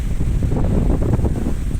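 High ocean waves roll onto a rocky shore on an afternoon, a loud continuous rushing surge mixed with heavy wind buffeting the microphone.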